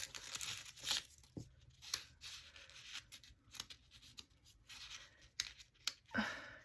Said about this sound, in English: I'm just going to give these a little trim, just so you can see the layers on here